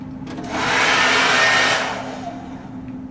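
A hair dryer blows steadily at close range, rising into a loud, sustained whoosh that holds for about a second and a half before easing back to a lower hum. No one speaks.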